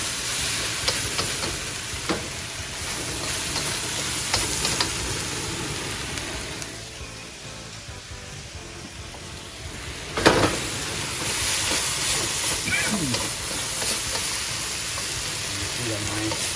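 Korean beef sizzles and fries in a pan while being stirred, with a steady close crackle, occasional scraping clinks from the utensil, and a brief quieter stretch before the frying surges again.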